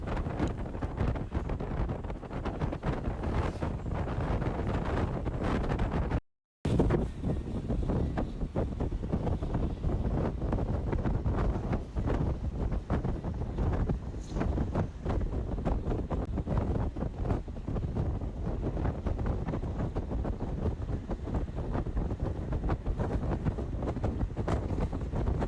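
Strong wind blowing outdoors among banana fields, buffeting the microphone as a dense, continuous rumble that persists throughout, broken only by a brief dropout.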